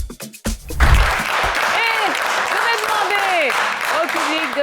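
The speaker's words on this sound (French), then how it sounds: "un maximum d'applaudissements pour Romuald, pour Cole et pour Sylvanus qui sont ici" Studio audience applauds and cheers for contestants on an Ivorian TV game show, a sustained dense wash of clapping with a host's voice carrying over it.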